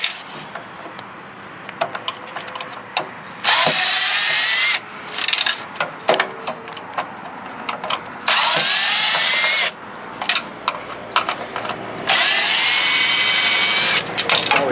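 A power screwdriver loosens the speakers while a CRT television is dismantled, giving three loud sustained whirring bursts separated by softer scraping and handling noises close by.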